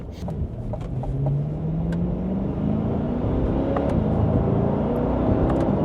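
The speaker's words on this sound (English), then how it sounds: "It has a lot of power. That's the first time that I floored it." Chevrolet C8 Corvette engine pulling hard at full throttle, a loud, steady roar whose pitch climbs smoothly as the car gains speed, heard from inside the cabin with no talking.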